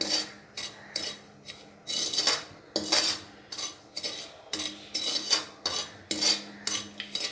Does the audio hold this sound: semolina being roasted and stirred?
yes